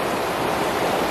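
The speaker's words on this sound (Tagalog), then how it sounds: "Lakas ng alon dito sa Bali." Strong ocean waves on a Bali beach without white sand give a steady, loud, broadband roar of surf with no break and no voices.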